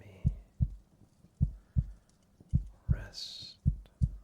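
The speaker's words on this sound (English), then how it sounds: "listen to my heartbeat" A heartbeat thumps in steady lub-dub pairs, close and soft, with a brief breathy whisper-like sound partway through.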